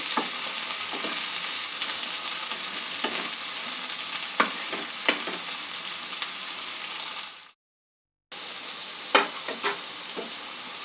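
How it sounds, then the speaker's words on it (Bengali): Potato and sponge gourd sizzle steadily in a hot pan of oil, with a constant close fry hiss broken by occasional stirring scrapes and a brief silent gap near the end. "আলু আর ঝিঙে একসাথে করে 2-3 মিনিট আমি একটু ভেজে নেব।"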